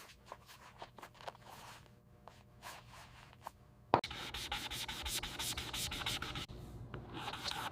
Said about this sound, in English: Sanding prepares edges for sealing and prevents future wear.